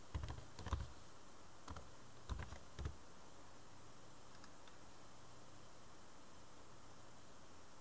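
A handful of quiet computer keyboard keystrokes tap out an application name in short clusters during the first few seconds, then give way to a faint steady hiss.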